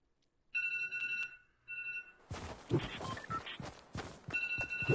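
A phone rings in two short electronic bursts, followed by footsteps and thumps as someone moves about, then the ringtone starts again near the end.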